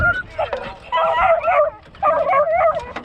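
Deer hunting dogs in South Carolina bark, yip and whimper excitedly in quick, overlapping bursts right after being turned loose, loud and close.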